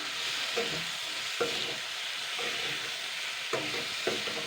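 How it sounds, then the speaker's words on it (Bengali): A duck egg fries in a pan with other vegetables while cooking malabar spinach seeds, giving a steady close sizzle broken by several sharp scrapes and clacks of stirring, with no talking. "এই হাঁসির ডিমটা দিয়েও আমি জাস্ট দুই দু মিনিট মতন হালকা ভেজে নেবো এগুলোর সঙ্গে"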